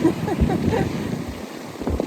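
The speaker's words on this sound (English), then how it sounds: "As you can hear there's like kind of rattling sound. That's sand just blowing just along hitting the beach." Strong gusting wind buffets the microphone at a beach, with a faint rattling hiss of blowing sand beneath the rushing air.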